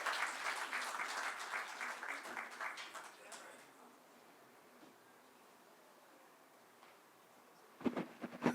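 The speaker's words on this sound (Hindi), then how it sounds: "ज़ोरदार तालियों के साथ स्वागत कीजिए" Applause welcoming a poet at a Hindi-Punjabi poetry recital, a moderate crowd clapping for about three seconds and then fading into quiet room tone, with a brief rustle near the end.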